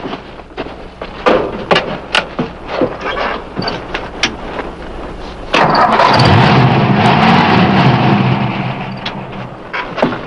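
A car engine cranks with several uneven bursts, then catches and runs loud and close, settling into a steady rumble.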